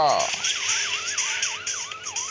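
Wailing ambulance siren from a racing video game, its pitch sweeping steadily up and down in a continuous loop over steady engine drone, loud and close.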